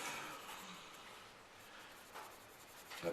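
Pencil shading on paper while drawing grass, a soft, continuous scratchy rubbing with a few firmer strokes, close and quiet.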